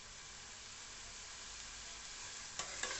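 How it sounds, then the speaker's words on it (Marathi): Chillies and onion sauté gently in oil over a low gas flame for chole curry, a soft continuous sizzle with a couple of faint stirring scrapes near the end. "बारीक गॅसवर मस्त असं लालसं परतून घेऊया"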